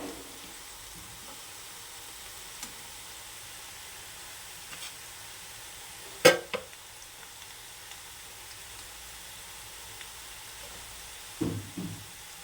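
A cup of onions frying in a pan until brown, a faint steady sizzle in the background broken by a few sharp spoon clanks and scrapes, the loudest near the middle and at the end.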